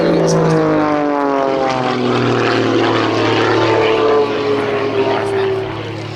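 A Pitts S-2S aerobatic biplane performs at a summer air show at Duxford, its loud propeller engine droning continuously with steadily shifting pitch as it climbs in a tightening spiral, sounding close and dominant throughout.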